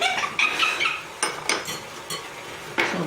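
A whisk beats pumpkin creme brulee custard in a bowl, giving a run of quick, uneven clinks and scrapes against the bowl, close by and moderately loud.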